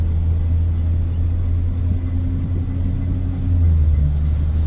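A flood-damaged Corvette on its first test drive rumbles along at light throttle, a steady low engine drone inside the car with a brief dip as it shifts gears, no talk.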